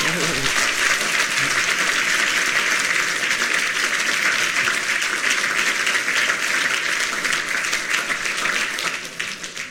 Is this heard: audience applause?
yes